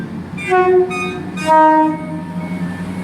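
ScotRail train departing Haymarket station in Edinburgh, sounding a few loud tonal horn blasts over a steady low rumble of the moving train, close by.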